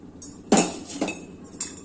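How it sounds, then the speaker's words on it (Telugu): A spoon stirs rice and moong dal in ghee inside a metal pot for khichdi, making three close, crisp clinks against the pot's side with quiet pauses between them. "ఇప్పుడు మనమంతా తుడిచిపెట్టుకున్న బియ్యము పెసరపప్పు వేసి కలుపుతున్నానండి"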